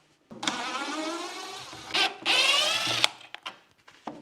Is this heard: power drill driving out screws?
yes